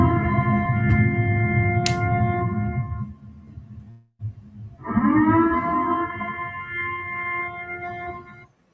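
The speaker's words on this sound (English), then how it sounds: "Now you know when you hear that siren in any of your cities" A siren wails in long, sustained tones, rising and falling in pitch, with a brief gap before a second loud wail swells back up.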